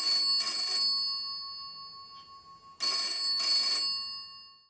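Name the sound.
telephone ringing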